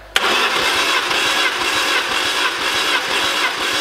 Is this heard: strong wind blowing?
no